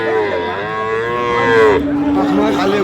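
A young crossbred bull calf, about five months old, moos in one long, loud, drawn-out call that breaks off partway through, followed by noisy background sounds at a cattle market.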